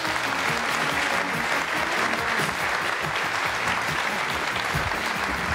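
A German television studio audience applauds warmly to welcome guest Dr. Helmut Karasek, a loud, dense, sustained clapping that fills the room from start to finish.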